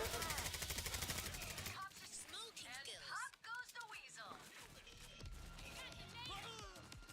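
Sniper and other gunfire in the video game Payday, with rapid shots and bursts crackling over a busy, loud mix of game sound and music.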